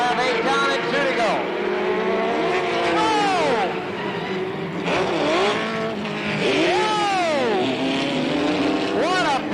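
Six-cylinder race cars roar around Slinger Speedway in 1985, engines rising and falling in repeated pitch sweeps as they pass, with a crowd-like wash beneath and a commentator talking over the din.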